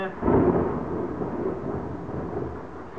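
Deep rolling thunder from a thunderstorm, a loud rumble swelling in the first half second then grumbling on steadily and slowly fading, broad and close, with no voices.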